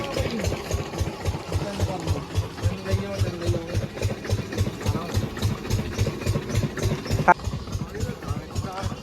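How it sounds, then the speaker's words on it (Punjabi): A motor engine at a village water well runs at a steady idle, thumping in an even rapid rhythm close by, with someone talking over it and a brief clunk near the end. "ਇਧਰ ਆਪਣਾ ਇੰਜਨ ਚੱਲੀ ਹੈ ਨਾ ਦੋਸਤੋ"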